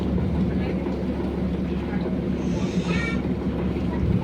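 A passenger launch's engine drones steadily on a Sundarbans river, a loud, unbroken low rumble mixed with wind buffeting and faint background voices.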